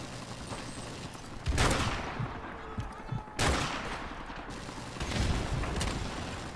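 Gunshots in a first-person shooter video game, a few sharp, loud cracks spaced a second or two apart over a steady hiss of background battle noise, with faint voices underneath.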